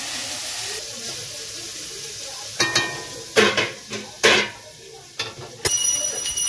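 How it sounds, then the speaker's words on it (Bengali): Mixed vegetables (cauliflower, carrot and beans) frying in a pan, with a steady sizzling hiss broken by several louder bursts as they are stirred and tossed, close up. "5 মিশালি সবজি, ফুলকপি, গাজর, বিনস ভাজা করছি"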